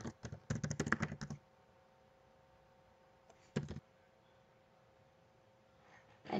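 Typing on a computer keyboard as login details are entered, with a quick burst of close, crisp key clicks, a short second burst a few seconds later and the start of a third at the end, quiet pauses between.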